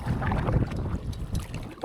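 Strong wind buffets the microphone in a steady, loud roar during a canoe crossing, with water and boat sounds mixed in beneath the gusts.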